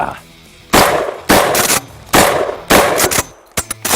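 A DP-12 double-barrel pump-action shotgun fires about four loud, close blasts in fairly quick succession, followed by several sharp metallic clacks of the action being worked, with no talking over it.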